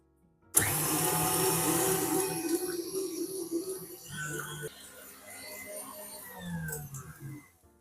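An electric mixer whirs loudly through a cream cheese mixture, starting abruptly and then running with an uneven, wavering motor tone that eases off partway through; no one talks.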